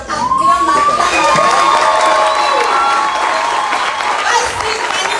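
A large crowd of young people at an evening Christian youth camp seminar cheers, whoops and claps loudly and without pause, with shouted voices mixed through it.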